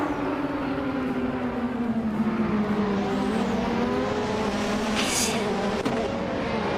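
Simulated 1988 Ferrari F1 race car engine in a racing video game, a steady loud high-pitched whine with a slowly falling pitch and continuous track noise, a brief swoosh near the end.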